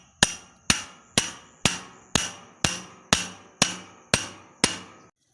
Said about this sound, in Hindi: इस एंगल को इसी में गाड़ दूँगा हथौड़ियों से ठोक ठोक के